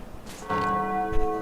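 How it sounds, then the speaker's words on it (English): A large bell in the video game Spider-Man: Web of Shadows rings out with one loud struck tone, its long harmonic hum swelling and sustaining, after a brief lead-in of faint clatter. "Try hitting that bell."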